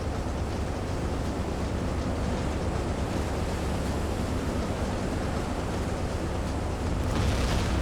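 A torpedo strikes a ship amidships just forward of the bridge in the submarine game Silent Hunter 3, making a loud, sustained roaring blast of broadband rumble that holds steady for several seconds and swells slightly near the end.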